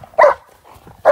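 A 12-month-old show line German Shepherd barks during a gun crime training scenario, giving two loud, close, sharp barks separated by a short pause.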